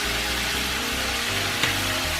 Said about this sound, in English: this is what you call saute